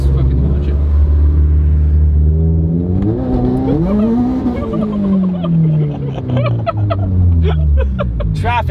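A Subaru BRZ launches with a clutch dump, its engine revving up loudly and dropping into a rising, rumbling pull nearby while people talk over the sound.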